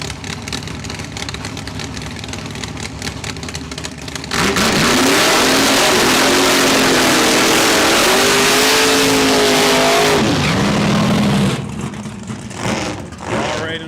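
A 1984 Chevrolet Camaro drag car launches down the strip with a loud, sustained roar that climbs through gear changes before easing off. An announcer talks over the idle before and after the run.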